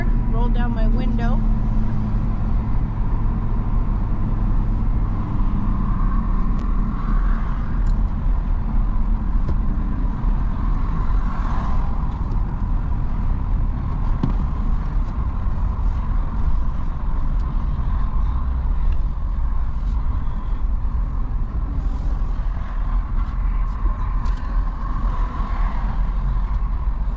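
A semi truck with a 17,000-pound load creeps through an Oregon weigh station, its engine a steady low drone and rumble that holds constant for the whole stretch.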